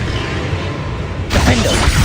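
A Confringo spell is cast in Hogwarts Legacy on hard difficulty, a sudden fiery burst erupting after a short lull, followed by loud crackling and whooshing game effects with a sweeping tone.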